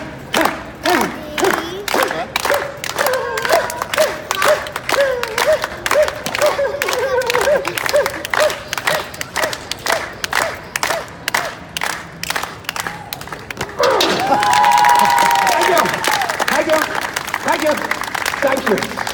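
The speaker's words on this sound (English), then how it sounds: "Everybody, slow hand clap." Comedy show audience doing a slow hand clap, loud unison claps speeding up steadily, with shouting voices over them, then breaking into cheering and applause near the end.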